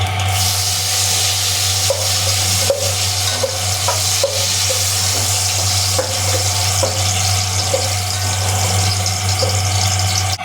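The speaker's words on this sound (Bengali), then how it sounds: "তো তেজপাতা শুকনো লঙ্কাটা আমার ভালো করে ভাজা হয়ে গেছে" Bay leaf and dried red chilli fry in hot oil for khichdi, giving a steady, close sizzle with occasional scraping stir strokes throughout.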